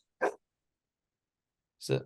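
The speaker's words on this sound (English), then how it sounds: "He just barks at me now from the top of the stairs." An old, grumpy dog barks twice from the top of the stairs, two short separate barks about a second and a half apart, moderately distant, with quiet between them.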